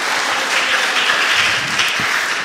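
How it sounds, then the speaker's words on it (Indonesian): Church congregation applauding together after a pastor's call, a dense, steady wash of clapping from many hands filling the room, loud and continuous without a break. "kasih tepuk tangan dong buat Tuhan kita"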